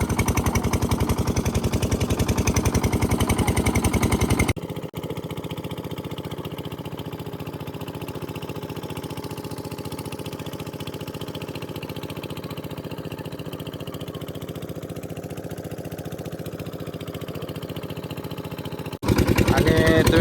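The engine of a fishing boat on a creek drones steadily, loud and close at the start and end and more muffled in between.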